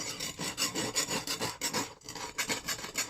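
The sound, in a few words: knife being sharpened on a soft King whetstone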